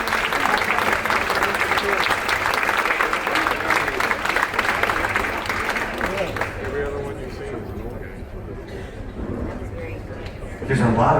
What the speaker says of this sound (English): Can you please give a big round of applause to the senior officers